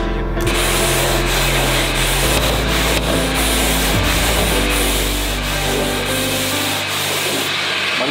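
Steady, close rubbing of hand sanding on a classic car's front fender, with rhythmic back-and-forth strokes continuing throughout.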